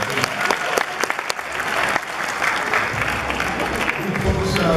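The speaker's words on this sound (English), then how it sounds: "Big round of applause for all of you." Audience applause at a community fundraiser honoring donors and performers, steady dense clapping from a crowd that holds and swells toward the end.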